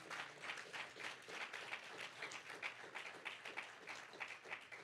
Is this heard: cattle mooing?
no